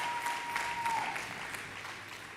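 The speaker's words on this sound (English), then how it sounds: "So let's give a big round of applause." An audience at a community awards gala breaks into applause, a dense, continuous patter of many hands clapping at moderate volume, slowly tapering toward the end.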